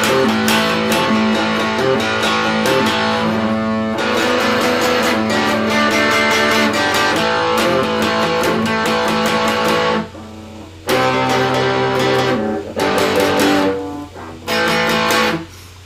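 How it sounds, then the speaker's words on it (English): Modified cheap Epiphone Les Paul-style electric guitar with a plywood body, playing a loud, dense, growling distorted tone with sustained chords and riffs, pausing briefly twice near the end, with no talk. "the sound you're hearing is a little Epster that I turned into a growling, howling monster guitar from a cheap-ass Epiphone"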